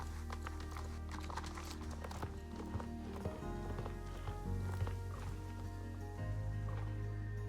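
Steady rhythmic clip-clop of a horse's hooves in the video game Star Stable Online, moderately close over layered background music and ambience, continuing evenly without talk.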